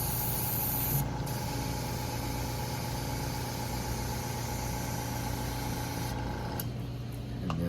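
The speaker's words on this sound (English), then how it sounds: "I'll attach just straight solvent, run it through the airbrush, open up the nozzle" Continuous hissing spray of straight solvent forced through an airbrush with the nozzle opened to clean it after a car paint chip repair, steady and close, with a brief break near the start and another near the end.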